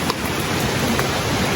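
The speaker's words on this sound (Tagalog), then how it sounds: "Grabe, naabutan talaga tayo ng ulan." Steady broadband rain noise, constant and fairly loud, like heavy rain pouring down nearby with no voices.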